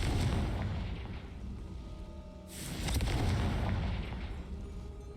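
A Confringo fire spell detonates in Hogwarts Legacy, giving a loud, continuous rumbling blast with a deep booming roar that swells again midway, close and heavy.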